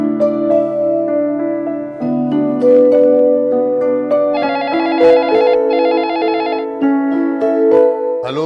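An outgoing telephone call rings, a steady electronic ringback tone pulsing in close, loud repeated bursts with a brighter warbling ring layered in near the middle, heard alone with no talking.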